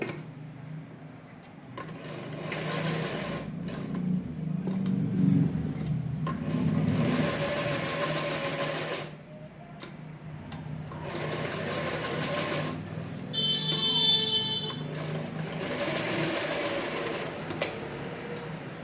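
A sewing machine stitches the back of a ladies' chudidar in several bursts of steady mechanical whirring, close and clear, with brief pauses and small clicks between runs.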